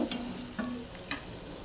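Potatoes and spices fry in a pan while being stirred, a soft sizzle with three brief scraping strokes, quiet and close.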